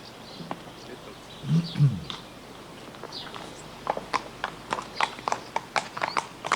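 Horse hooves clip-clop in a stable, with scattered then quickening hard knocks on the floor after a short snort or grunt, fairly close and without talk.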